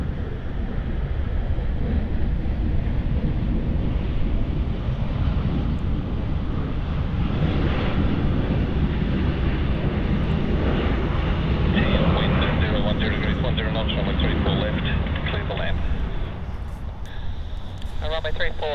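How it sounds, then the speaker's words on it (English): A Qantas Boeing 737 arriving from Auckland at Sydney Airport on runway 34 left produces a loud, sustained jet roar with wind buffeting, while someone talks over it throughout. "That one there arriving in from Auckland. Another international flight by the Qantas 737."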